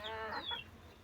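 A single chicken at a home poultry setup gives a brief, fairly faint cluck, a short bird call heard alone.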